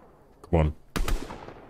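Gunshots in a shooter video game, a couple of sharp nearby bursts with a short echoing tail, while someone talks over the action.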